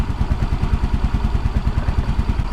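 A freshly tuned-up Yamaha Mio i 125 scooter idles close by with a fast, even putter, its low chugging pulses repeating steadily and loud, with no voices.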